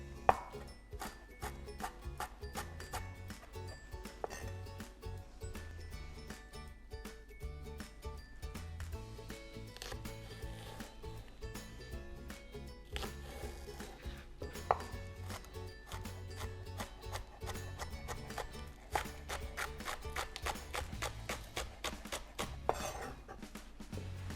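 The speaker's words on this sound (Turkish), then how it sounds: "İnce ince dereotumu ve taze soğanımı doğrayacağım." Rapid, steady knife chopping of dill and spring onion on a cutting board, many quick taps continuing throughout with faint kitchen background.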